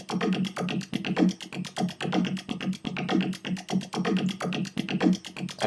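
A house music loop run through a Laser Filter auto-filter preset, punchy beats repeating at a steady tempo with a swept, filtered texture, playing alone.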